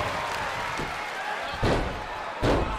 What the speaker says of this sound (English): they're slamming their face down.